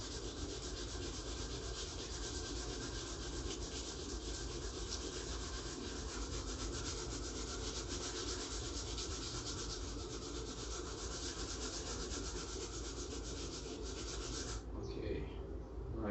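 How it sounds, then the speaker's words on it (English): Wooden guitar neck being sanded by hand with a sticky finish, giving steady, continuous close rubbing and scratching strokes that go on without a break and then ease off at the very end. "But for me, I think I need to sand it down a little bit more."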